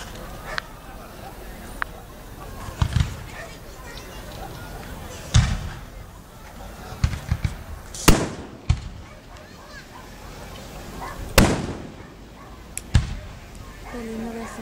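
Outdoor fireworks display in San Juan with several sharp bursts spaced irregularly, some loud and close, others fainter, while people chatter and exclaim throughout.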